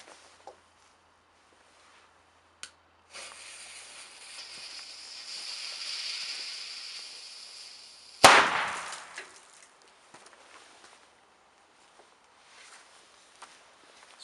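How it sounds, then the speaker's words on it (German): A Weco China-Böller D firecracker set off outdoors: a hissing fuse builds for several seconds, then one sharp loud bang with a short echoing tail, and faint pops and small noises follow afterward. "China-Böller D."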